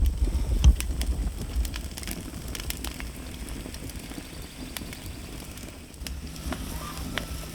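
Log fire burning in a Santa Maria grill, a steady soft crackle and hiss with scattered pops, moderately quiet and without talk.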